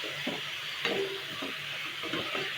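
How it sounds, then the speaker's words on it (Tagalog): Chicken pieces added to a pot of tomatoes for sinigang, producing a steady soft sizzle with a few dull thuds and stirring knocks close by. "lalagay ko na yung aking manok kasi pagkakatasin ko yan dyan ng matagal hanggang sa lumambot siya"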